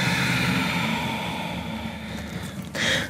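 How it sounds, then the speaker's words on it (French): Motorcycle engine droning in the background behind an indoor yoga session, a steady mid-distance rumble that fades slightly and then swells again near the end. "désolée pour le bruit de moto derrière"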